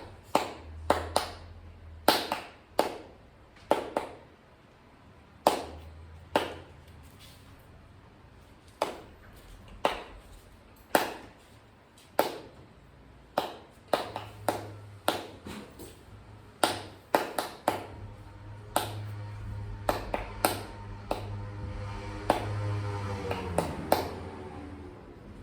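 Children in a piano group clap out a rhythm, sharp hand claps in short patterned bursts separated by pauses, with a low hum underneath and brief voices near the end.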